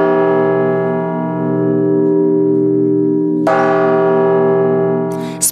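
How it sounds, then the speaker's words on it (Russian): Church bells ring at the Spaso-Euthymius monastery in Suzdal, a loud sustained chime heard up close with long overlapping tones, then a fresh bright strike of bells partway through. "Вот слышите колокольный звон?"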